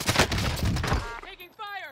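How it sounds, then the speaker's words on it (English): Video game gunfire, a dense burst of rapid shots for about a second, loud and close, then fading into trailing tonal game effects. "Taking fire."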